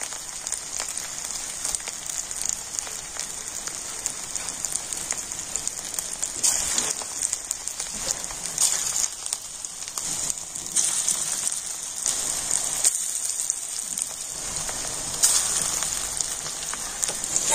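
Small bora-style fritters dropped into hot oil give a steady, close crackling sizzle that fills the whole clip, crisp and bright with no voices over it.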